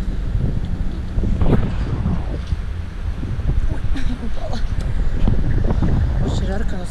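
Strong wind buffets the microphone with low rumbling gusts in Paris, while people talk over it.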